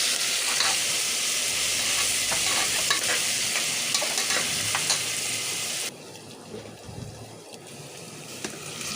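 Onions with ginger-garlic paste frying in a pan crackle and sizzle steadily as a spoon stirs and scrapes through them, close and busy, then the sizzle drops suddenly quieter partway through.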